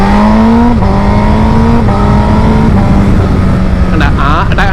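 Honda CBR 1000 RR SP superbike at high revs, engine note stepping down abruptly with each quick-shifter gear change, several shifts in succession, loud and close, with a voice speaking over it.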